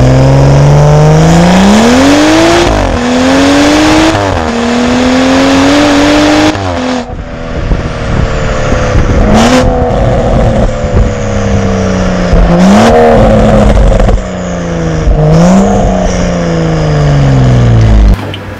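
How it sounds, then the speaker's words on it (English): A BMW M235i straight-six turbo fitted with a downpipe exhaust mod revs hard several times up close, rising pulls and drops in a loud, continuous engine note with no voices over it. "with the downpipe it makes it sound like this"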